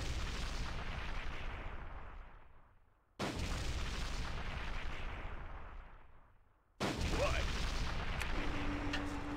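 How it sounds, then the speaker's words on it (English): Artillery fire and explosions in the real-time strategy game Enemy Nations: three heavy booming blasts a few seconds apart, each decaying slowly, the last followed by a faint mechanical tone. "I can hear you shooting."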